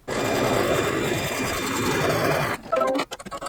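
An embroidery machine stitches a fabric tack-down for a Kimberbell appliqué topper, running in a fast, steady close whir for a few seconds before stopping with a few brief mechanical clicks.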